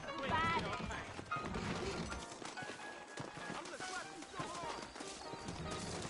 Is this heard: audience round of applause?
no